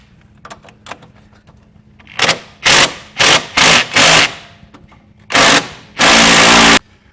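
Power tool tightening the generator bolts on a 1972 VW Karmann Ghia, sounding as a run of short, loud bursts with brief gaps and a longer sustained burst at the end, after a few faint clicks.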